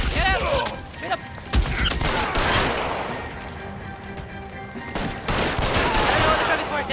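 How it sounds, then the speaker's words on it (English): Gunfire in LA Noire: bursts of sharp shots and rapid firing crackle through a loud, busy scene, with voices shouting over the shooting and a dense cluster of shots near the end. "Open fire!"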